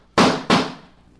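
Two sharp gunshots from a revolver in a 1945 radio drama, fired about a third of a second apart, loud and close, with the second shot's tail fading out. No talk.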